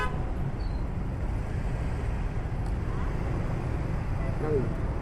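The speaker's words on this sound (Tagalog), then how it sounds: "Aga pa lang, traffic na dito." Morning road traffic on a busy service road by a superhighway, a steady broadband rumble of vehicles with a brief honk rising near the end, and voices talking over the din.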